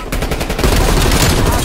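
Rapid automatic gunfire in Call of Duty Black Ops, a fast rattling stream of shots that grows louder and denser after the first half second, close and intense.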